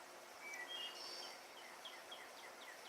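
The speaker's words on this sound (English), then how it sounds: "Those birds are really lively today. Can you hear them?" Small birds chirp outdoors in short, scattered calls that stay faint and somewhat distant over a steady background hiss, with no talking.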